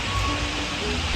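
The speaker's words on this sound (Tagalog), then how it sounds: "Ayan po at nabuhos na nga po ang ulan." Heavy rain pours steadily onto a riverside spot in the Philippines, a dense, even hiss of drops drumming close by for the whole moment with no pauses.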